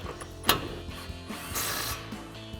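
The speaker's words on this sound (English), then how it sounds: "Grab our 21mm socket and tighten this down." Socket ratchet with a 21mm socket tightening a nut on a front strut of a Ford F-150 during a suspension install, quick clicking ratchet strokes with metallic clanks, close and without talk.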